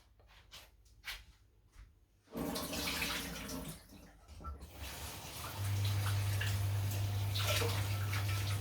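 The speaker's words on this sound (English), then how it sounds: "I'm just giving my yam a little bit of a rinse" Sliced yellow yams being rinsed in a bowl of cold water, with splashing and sloshing that grows louder and a steady running-water rush building in the second half.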